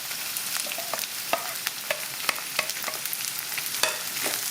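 Finely chopped green chilies fry in a pan for mango chitranna with a constant crackling sizzle. Quick spatula ticks and taps are sprinkled through it, close up and with no talking.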